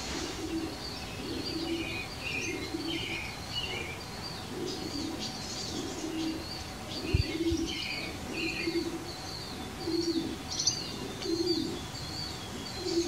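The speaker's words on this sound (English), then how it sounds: "I hear pigeons." Pigeons coo repeatedly inside an old barn, soft rhythmic calls rising and falling with occasional chirps and a brief flutter of wings, moderately close and steady throughout.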